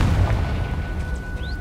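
A Confringo spell explosion in the video game Hogwarts Legacy: a loud, deep booming rumble that fills the whole brief moment, with no voices.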